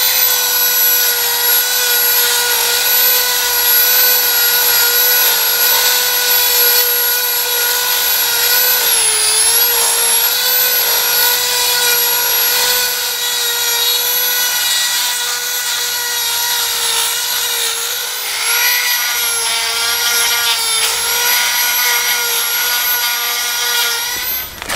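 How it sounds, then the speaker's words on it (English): A handheld Dremel rotary tool whines steadily at high speed while cleaning up drilled holes in new plates, a loud continuous tonal buzz with slight pitch wobbles under load, running alone without talk. "Now I'm going to do this with a Dremel because that's quite handy"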